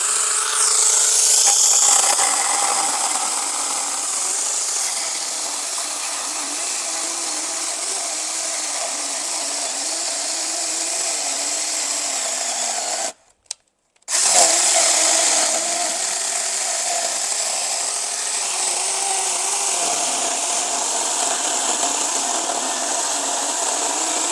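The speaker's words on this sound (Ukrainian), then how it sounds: "Е, беремо такий брусок. І зараз ми його впиляємо." An Ingco hand saw cuts through a damp wooden beam with a continuous rasping stroke, loud and close, broken by one brief pause midway before the sawing resumes.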